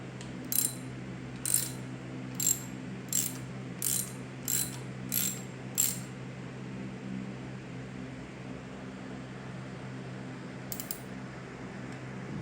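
A ratchet wrench tightening a locking nut during SR20DET engine assembly in an S13, giving eight evenly spaced short clicking bursts, then a pause and one final brief click over a low steady background hum.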